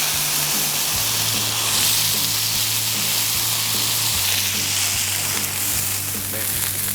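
Smashed burger patties, four of them, sizzle and fry steadily on a hot griddle at a camp-style cook, a dense continuous hiss with a low hum underneath, close and loud throughout.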